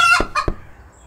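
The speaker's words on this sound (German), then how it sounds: "wir kümmern uns um die Hühner." Chickens clucking close by, two or three short squawking calls in quick succession before fading to quiet.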